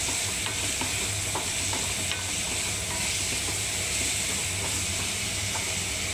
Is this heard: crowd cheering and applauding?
no